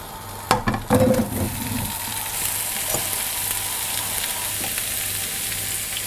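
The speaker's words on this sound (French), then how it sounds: "je vais faire cuire les pommes avec du sucre et du beurre" Apples frying in a pan with plenty of butter and sugar give a steady broadband sizzle, opened by a few clattering knocks and stirring scrapes in the first seconds, then an even hiss with no talk.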